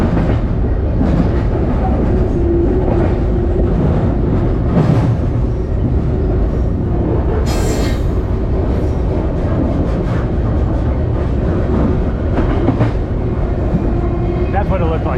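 A freight train rumbles steadily out of a tunnel near Puget Sound. Continuous loud rail noise with clickety-clack wheel beats and some higher metallic squeal runs throughout, and a voice talks over it at times.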